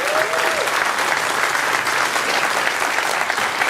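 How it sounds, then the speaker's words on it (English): An audience at an evening talk breaks into loud, continuous applause, a dense even wash of clapping that holds steady throughout with a brief tonal sound at the very start. "Please give him a round of applause."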